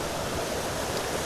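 Steady, broadband rush of a waterfall in woodland at Craflwyn near Beddgelert, North Wales, a continuous even wash of falling water with no talk over it.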